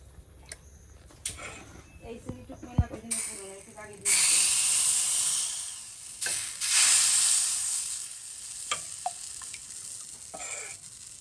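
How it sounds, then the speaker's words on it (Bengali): Saj pitha batter is poured onto a hot pan and breaks into a loud, sustained hissing sizzle that swells and fades, after some earlier kitchen clatter and quiet background talk. "গরমে এসে সাজ পিঠা ডেলে দিই"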